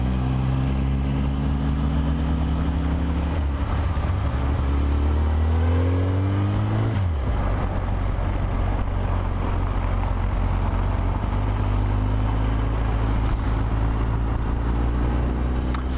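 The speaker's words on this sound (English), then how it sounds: "Nice sound from that bike. The mellow," Steady, deep engine drone of a motorcycle while riding, loud throughout with a rising-then-falling rev shift partway and sustained wind rumble, no talking.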